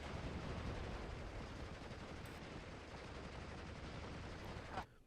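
Heavy machine gun fire and battle noise from a WWII war game featuring a StuG assault gun and infantry clearing a village: a dense, continuous rattle of distant gunfire, quiet overall, cutting off abruptly just before the end.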